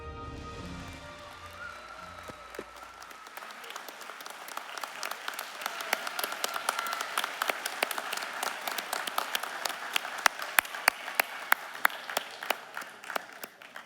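Convocation audience applauding nursing and health disciplines graduates at Athabasca University, the clapping swelling from a few hands into a dense, crisp ovation that grows louder and sharper toward the end.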